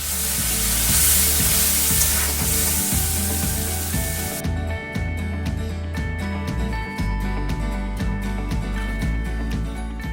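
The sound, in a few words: cumin seeds spluttering in hot oil for tempering dalma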